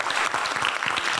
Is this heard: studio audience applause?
yes